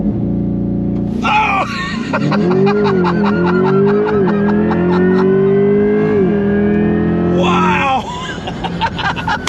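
A 2024 Chevrolet C8 Corvette E-Ray accelerating hard, its engine note climbing steadily through a long pull before a gear change and renewed surge, loud and close, with excited exclamations from occupants over it.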